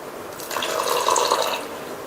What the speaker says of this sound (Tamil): ரெண்டு டேபிள் ஸ்பூன் தண்ணி சேர்த்திருக்கேன்.